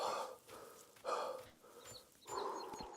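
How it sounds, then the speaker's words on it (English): A flock of chickens in the video game Rising World cluck in repeated bursts, a busy, fairly close and moderately loud chorus with no talking. "That's a lot of chickens."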